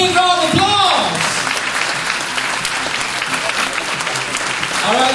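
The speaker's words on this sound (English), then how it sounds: "please give yourselves a big round of applause" Loud, sustained applause from a large audience, steady clapping that fills the whole stretch, with a voice briefly audible near the start and end.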